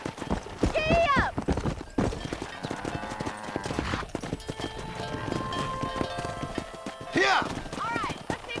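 Horse hooves gallop in a steady, loud clip-clop rhythm while riding in the western video game Red Dead Redemption, with a brief whinny and voices talking over the ride.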